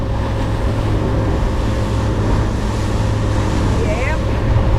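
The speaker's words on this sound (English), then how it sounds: "A lot of boat traffic today" A motorboat's engine drones steadily and loudly while the boat runs over bumpy open water near an island sandbar, with wind buffeting and water rushing around it.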